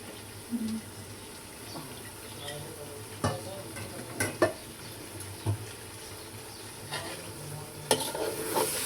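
Lentils and rice grits for khichuri are stirred and fried in a pan, giving a steady close sizzle broken by occasional scraping clinks of the spoon, with no talking.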